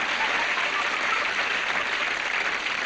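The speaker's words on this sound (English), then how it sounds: "look at the ovation they're getting from this crowd here" A stadium crowd gives a loud, sustained ovation of steady applause at the 1980 World Roller Skating Championships, cheering a Canadian pair after their performance; no voices come through over the clapping.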